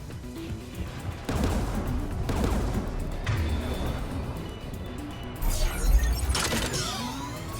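Turret gunfire in a sci-fi shooter video game: repeated loud bursts and crashing impacts come in clusters over a constant battle rumble, with sharp metallic effects near the end.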